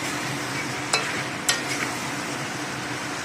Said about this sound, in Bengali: এটা বেশ 10 মিনিটে ভালো করে এরম করে কষবো। তেল একদিকে মশলা একদিকে হবে,